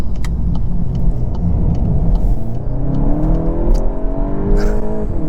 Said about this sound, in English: This is just a fantastic turbocharged 2-liter.